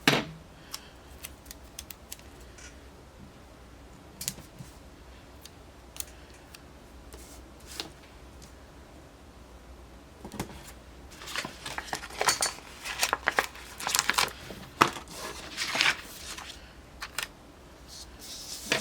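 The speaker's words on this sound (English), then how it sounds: "Let's just cut it ahead of time." Scissors cut paper for a planner, with quiet sparse snips at first, then a dense run of close, crisp snipping and rustling toward the end, without talking.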